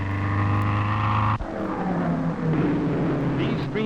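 Loud, steady harmonic engine drone of powerful 400–500 horsepower racing cars in old newsreel footage, a sharp break midway, then a rougher, shifting roar continuing at close range.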